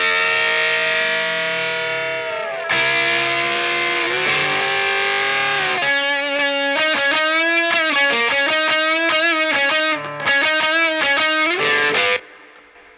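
An electric guitar solo plays through a Marshall amp with heavy distortion and effects: sustained bends first, then a quick run of rhythmic picked notes before it cuts off near the end.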